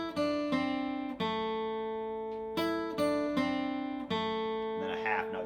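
Acoustic guitar picks a short bluegrass phrase from Cluck Old Hen, clear single notes and double stops in an uneven rhythm, played close and alone with a brief scrape at the end.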